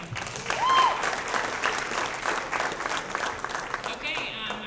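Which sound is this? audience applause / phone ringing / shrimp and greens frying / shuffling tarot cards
audience applause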